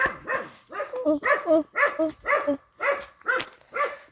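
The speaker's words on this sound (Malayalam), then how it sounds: "പട്ടി തെറിക്കാൻ തുടങ്ങി." Repeated dog barks, roughly eight in a steady run over four seconds, loud and close outdoors on a sunny day, with people talking around them.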